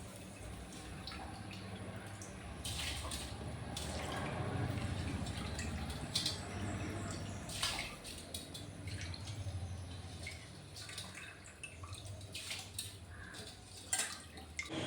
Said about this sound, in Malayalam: ഞാൻ അരി വേഗം കഴുകിയിട്ടു